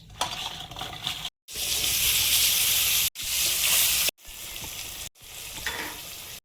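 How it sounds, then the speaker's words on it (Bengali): Pointed gourd slices fry in a pan of hot oil with a loud, dense sizzle broken by brief pauses, near and continuous between the gaps, with no talking. "কাঁকরোল ভাজা আর পটল ভাজা আগে বানিয়ে নেব"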